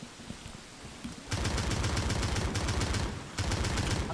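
Sustained automatic gunfire in Left 4 Dead 2 breaks out after a quiet opening, a dense rattling stream of shots that briefly stops and then resumes, loud and close with no talking.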